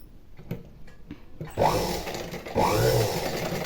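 A sewing machine stitches piping along a fabric edge in two short bursts of fast, steady whirring, close and fairly quiet, after a few soft handling clicks.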